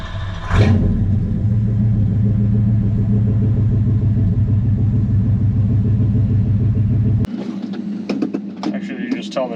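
Stock 394 cubic inch V8 in a 1964 Oldsmobile Jetstar 1 cranking and catching, then idling with a loud, steady, deep rumble up close before it cuts off and people talk.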